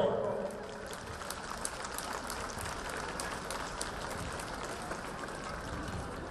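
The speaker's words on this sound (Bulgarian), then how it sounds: "Нека вашите бурни аплодисменти бъдат Поздрав за гордостта на Стара Загора!" A crowd at a Stara Zagora holiday celebration applauds outdoors, a soft, distant wash of many hands clapping that stays steady throughout, faint against the open-air background.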